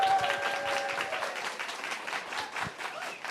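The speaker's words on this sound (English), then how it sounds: "let's give her a big round of applause" A crowd at a design talk claps steadily for a speaker, a soft, continuous wash of applause heard from a distance throughout.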